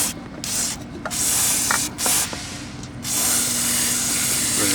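Brake cleaner sprays onto a Teryx clutch housing in several close hissing bursts, with short pauses between them, the last burst running long and steady.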